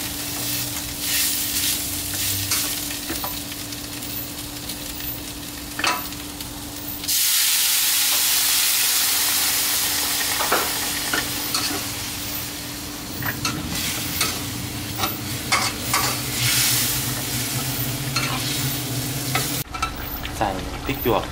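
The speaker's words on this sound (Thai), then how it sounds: "น้ำซุปครับที่เราต้มซี่โครงไว้นำมาเทลงเลยนะครับ" Boiled pork rib broth is poured into a Thai curry with young pork ribs and stirred in a pan, a steady sizzling stir that turns into a loud rushing hiss for several seconds, then goes back to stirring.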